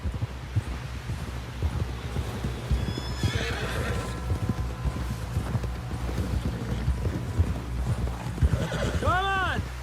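Hooves clip-clop in a steady galloping rhythm in the video game Red Dead Redemption 2, with a horse neighing and whinnying near the end; voices talk briefly over the hoofbeats.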